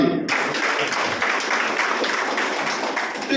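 An audience in a lecture hall bursts into applause after a brief moment, with a dense, sustained clatter of many hands clapping through to the end.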